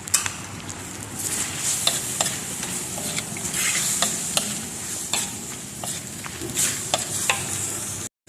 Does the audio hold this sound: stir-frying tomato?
yes